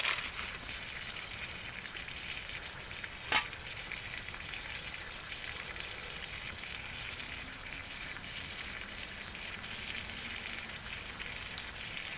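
Mincemeat and onion fry in a pan at a hot-tent campsite, giving a steady, faint sizzle with one sharp clink partway through.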